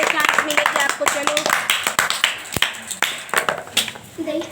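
Scattered hand claps from several people at a board game of Tiri Chauka, sharp uneven slaps mixed with constant chatter and children's voices throughout.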